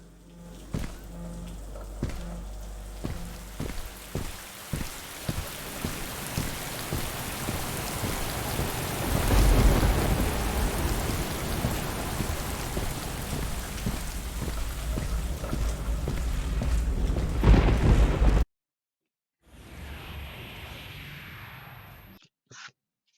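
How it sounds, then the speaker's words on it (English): Steady, dense rain in the VR video game Boiling Steel pours continuously and grows heavier partway through, then cuts off abruptly before a quieter stretch. "don't be afraid of rain"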